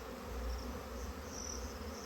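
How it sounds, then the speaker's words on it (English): Bee swarm buzzing steadily at a hive as it colonizes it, a dense, continuous drone with no talk. "When you see the scouting"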